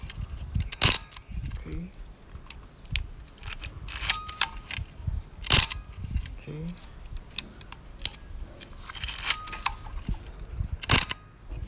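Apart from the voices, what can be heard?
Praktica Nova ER film camera shutter firing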